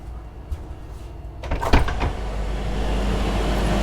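A heavy, thick soundproof door on a 2017 Cantiere Delle Marche Darwin 102 explorer superyacht opens with a few clunks and a latch rattle, then a loud low engine-room drone of running generators floods in and holds steady.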